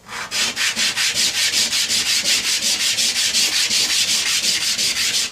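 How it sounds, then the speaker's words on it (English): Steady rhythmic rasping of a coin ring, made from a Canadian 50 cent piece, being sanded on its back side, about five strokes per second, loud and close, with no talking. "Now I'm going to sand the back side."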